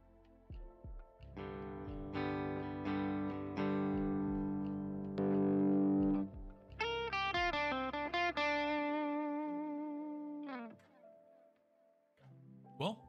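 Electric guitar played through overdrive, delay and reverb plugins controlled by MIDI: sustained distorted chords ring out, then a run of bright, echoing picked notes trails off into reverb, with a short strum near the end.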